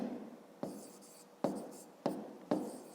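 Pen on paper as numbers are written by hand during a 5th-grade subtraction exercise, four or five distinct scratchy strokes close up, each starting sharply and trailing off, in a quiet room without talk.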